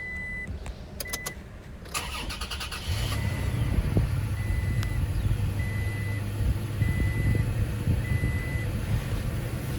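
A 2021 Toyota Tacoma SR5 with a 3.5-liter naturally aspirated V6 starts after a few chimes, then settles into a steady, low, rumbling idle heard up close with no voices.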